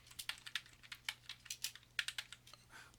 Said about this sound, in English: Type in kernel density